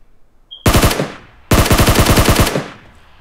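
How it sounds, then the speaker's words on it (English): M762 rifle fire in PUBG Mobile, two loud rapid automatic bursts of close gunshots, each about a second long with a short gap between, and no talking. "Just shooting."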